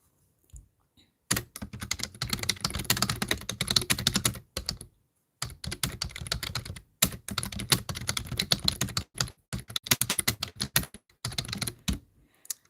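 Typing on a computer keyboard in quick, irregular bursts of crisp key clicks separated by short pauses, close and alone with no voices.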